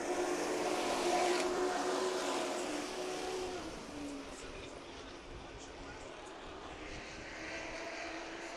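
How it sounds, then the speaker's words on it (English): Race trucks at Meridian Speedway in a Northwest Tour event drone with engine noise over the track, a steady roar swelling and fading as they pass, under continuous commentary. "Reitzma and the 73 to the inside of Harris for the lead."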